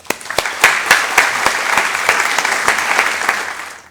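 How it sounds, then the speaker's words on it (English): An indoor lecture audience applauds for the speakers, a dense steady clapping of many hands with a few sharper individual claps, building quickly and holding at a strong level. "giving a round of applause to both of our speakers"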